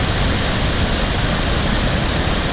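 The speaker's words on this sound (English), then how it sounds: "Another shot here of the waterfall." A Yellowstone waterfall roars as a steady, loud broadband rush of falling water, constant and unbroken with no voices over it.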